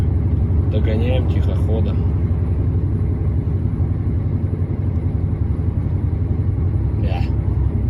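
Steady low car engine rumble builds as the vehicle speeds up on the road, loud and continuous throughout, with someone speaking briefly over it near the start.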